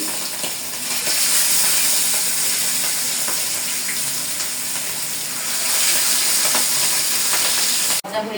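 Fish frying in hot oil in a home kitchen, a loud steady sizzle and hiss throughout with faint stirring, no speech.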